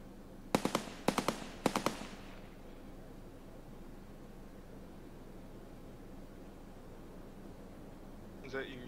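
Three sharp gunshots in Escape from Tarkov on the Ground Zero map, close and crisp, the first two fired in quick succession and the third shortly after, followed by quiet ambience and low talk.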